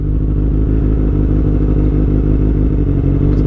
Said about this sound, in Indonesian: Ngeri-ngeri sedap sih gue pakai knalpot bising gini.